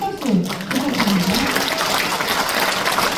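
Audience members at a party women's committee lecture event in Cheongju clap to welcome a guest. A short voice opens, then dense, moderately loud applause continues to the end.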